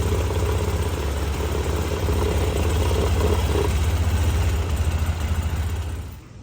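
A 2010 Polaris Ranger 800 XP utility vehicle engine idles high at around 2,000 RPM, a steady, close, throbbing drone that continues evenly before dropping off at the very end.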